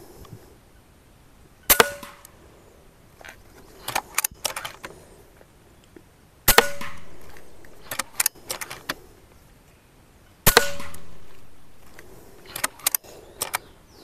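A P35X Evolution air rifle fires slug shots outdoors at a 51-metre target, three sharp cracks spaced several seconds apart, each followed by clicks and metallic handling noises from cocking and loading.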